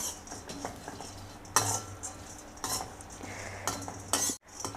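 Peanuts and seeds roasting in a pan are stirred with a utensil, giving steady scraping and clinking near the mic with a faint sizzle beneath. Several louder scrapes cut through the running stir.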